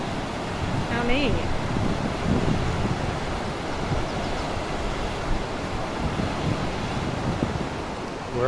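Whitewater rapids on the Arkansas River at the Buena Vista whitewater park, a steady broadband roar of rushing water with wind buffeting the microphone and faint voices in the background.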